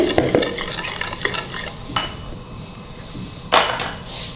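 A spoon scrapes and stirs a fish fry coating with turmeric powder in a bowl, several short clinking strokes close by, irregular in rhythm and fairly loud.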